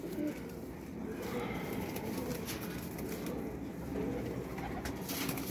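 Soft pigeon coos repeat close by over a steady outdoor hum, with a few faint flutters and no talking.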